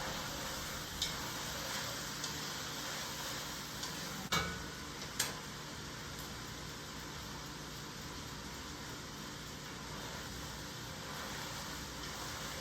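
Meat sauce for spaghetti bolognese simmering in a pan, a steady low sizzle and bubbling hiss running continuously, with a few soft clicks and knocks near the start.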